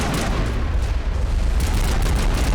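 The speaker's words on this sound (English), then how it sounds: "Hold still whilst I'm shooting you." Gunfire and explosive booms fill a Mass Effect video game battle, a dense, continuous roar of shots and blasts throughout without clear breaks.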